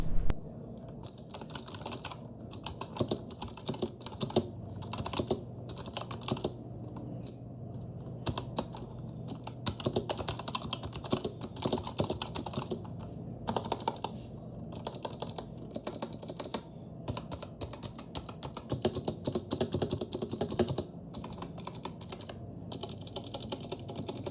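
Rapid, steady typing on a Razer Huntsman Mini 60% keyboard with clicky switches, close and crisp with bursts of keystrokes separated by brief pauses, no voices.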